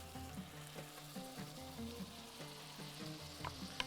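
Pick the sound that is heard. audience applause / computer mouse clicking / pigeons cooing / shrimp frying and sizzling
shrimp frying and sizzling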